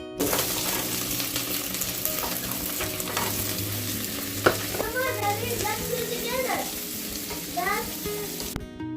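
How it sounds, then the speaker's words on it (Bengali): Butter sizzles steadily in a hot kadai, a close, continuous frying hiss with occasional clinks, while children's voices chatter faintly in the background. "এবার কড়াইতে একটু বাটার দিয়েছি"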